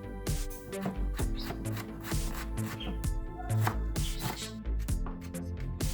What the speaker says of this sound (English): so I am going to chop onion